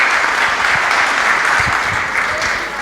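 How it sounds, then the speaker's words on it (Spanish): A gathered audience applauds for a priest with dense, continuous clapping that stays loud and even throughout, with no pauses. "Un aplauso para el Padre."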